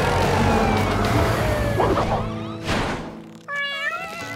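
Cartoon kittens meow in a short series of high, rising calls, loud and close over a busy animated soundtrack with music and a siren-like wail, with no speech over them.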